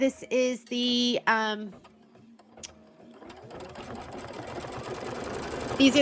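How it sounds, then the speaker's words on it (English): Embroidery sewing machine stitching a quilt design runs steadily from about three seconds on, a dense continuous mechanical whir, after a voice speaks briefly at the start. "I'm going to go ahead and let it do the stitching"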